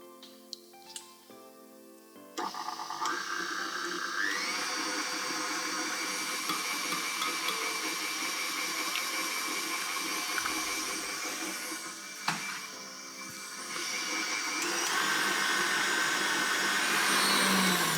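An egg beaten into creamed butter and sugar with an electric whisk, which starts after a few clinks and whines steadily and loudly, rising slightly in pitch as the batter lightens, with occasional knocks against the bowl.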